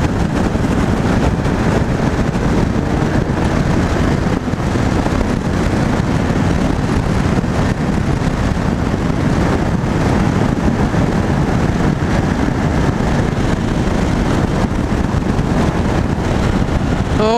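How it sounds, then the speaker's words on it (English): A 2016 BMW R1200R with its boxer engine cruises along, its steady engine hum largely buried under heavy, continuous wind rush at the microphone, loud and unbroken throughout. "It's nice, the boxer engine."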